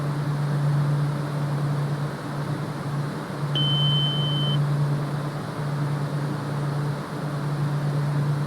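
In the cockpit of a Piaggio P180 in Microsoft Flight Simulator 2024, a single steady tone beeps for about a second over a loud, constant engine drone with a low hum.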